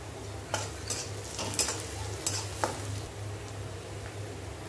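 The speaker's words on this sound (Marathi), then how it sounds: "आणि हा कांदा आपल्याला गुलाबी परतून घ्यायचा आहे। लसूण टाकायचा आहे," Onion and garlic frying in a pan with cumin, a steady low sizzle broken by a few sharp scrapes and knocks of a spoon stirring, close and fairly quiet.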